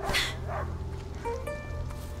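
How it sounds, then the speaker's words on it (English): A dog in the video game A Plague Tale: Innocence gives a few short barks and yips near the start, then quieter whimpering tones over a low ambient rumble. "He stopped barking. He must have found it."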